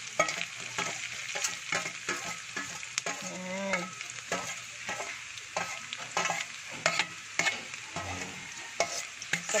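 Ginger sautéing in a generous amount of oil in a pan, a steady loud sizzle broken by repeated clattering stirs and scrapes of a utensil, with no talking.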